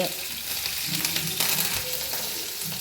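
Chana dal, urad dal, green chillies and curry leaves sizzle steadily in hot oil with mustard seeds, a dense continuous crackle with faint stirring clinks, close and moderately loud, no talking.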